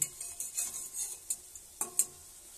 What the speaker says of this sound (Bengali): এটা একদম ভালো করে লাল করে ভেজে নেব